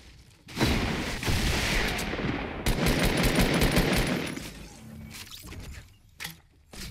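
Gunfire from a shooter video game, with a dense, loud stretch of rapid shots and booms that fades to quieter scattered sounds.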